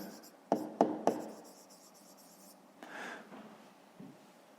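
Pen on paper writing out numbers for a fifth-grade maths exercise, quiet scratchy strokes with a few sharp taps, close and soft, interrupted by brief speech.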